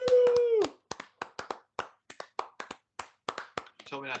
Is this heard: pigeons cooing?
no